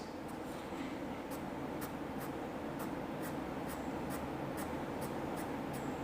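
A pencil rendering an air balloon design on paper makes faint, quick scratchy shading strokes in a regular rhythm over a soft, steady background hiss.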